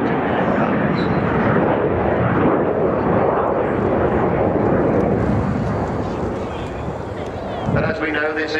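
At RIAT 2015, the Avro Vulcan XH558 bomber passes overhead with its bomb bay doors closing, producing a loud, sustained jet roar that swells and then slowly fades while a commentator talks over it.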